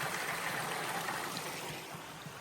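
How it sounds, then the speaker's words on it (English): Small mountain stream of water trickling down beside a little footbridge, a steady, close, continuous wash of running water with no voices. "Pretty cool little water feature coming down."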